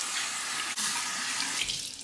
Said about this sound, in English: Hot and cold water rinse of the face.